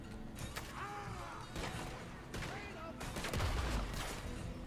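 Sharp bursts of gunfire crack through a busy Red Dead Redemption 2 game soundscape, several shots spread across the moment with a heavy thump near the end.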